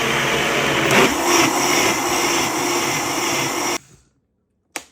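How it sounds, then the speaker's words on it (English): A blender purees cauliflower soup in a loud, steady whir that runs for nearly four seconds and then cuts off abruptly, with a voice faintly beneath it and a brief clunk after the motor stops. "I'm going to go ahead and blend this until it's nice and smooth"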